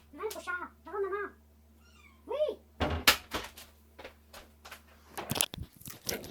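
A large house cat meows several times in short rising calls, close by, followed by clattering and knocks like a cupboard or door, with a person speaking to it.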